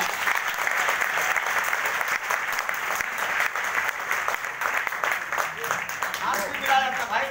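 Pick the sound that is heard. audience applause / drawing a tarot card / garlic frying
audience applause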